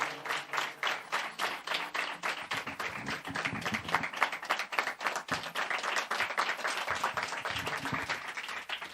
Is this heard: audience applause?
yes